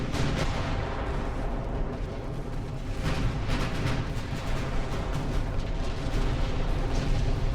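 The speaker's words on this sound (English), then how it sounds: "Battleships, I need you to fire on that heavy cruiser." Battleship main guns firing in the naval strategy game Ultimate Admiral: Dreadnoughts, a dense, continuous barrage of deep booms and rumbling blasts overlapping one another at steady high loudness.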